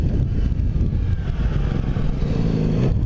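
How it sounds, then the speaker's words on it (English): A motorcycle fitted with a new slip-on exhaust muffler rumbles steadily up close, a deep, continuous exhaust note with a slight clatter, running without pause. "I got a new slip-on exhaust. Just the muffler, just a slip-on."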